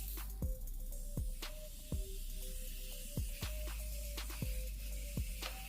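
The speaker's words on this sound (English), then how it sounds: "I'll be using my Morphe Continuous Setting Mist. You want to make sure you spray your face." Quick spritzes of Morphe Continuous Setting Mist sprayed onto a face, about eight short pumps in a fairly steady rhythm, close and soft against a quiet background.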